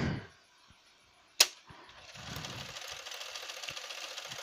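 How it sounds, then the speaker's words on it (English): Sewing machine stitching through a piece of cloth laid over elastic on a fitted sheet; a sharp click, then a steady close whirring run of needle strokes, no talking. "I've put a piece of a cloth on the top of this elastic here and sewing right over it."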